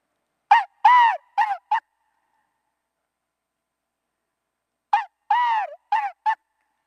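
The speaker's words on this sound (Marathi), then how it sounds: "ग्रे जंगल फाऊल आहे. हाय पिच्ड आवाज असतो" A grey junglefowl gives loud, high-pitched calls close by: a rapid burst of four sharp notes, a pause of about three seconds, then a second matching phrase against silence.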